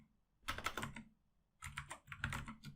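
Keys clatter on a computer keyboard in two short flurries of rapid taps separated by a brief pause, close and fairly quiet, with no talking.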